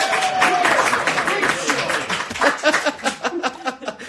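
A live concert crowd applauds and cheers with dense, continuous clapping and shouts, a brief whistle rising at the start, steady and close for the whole stretch.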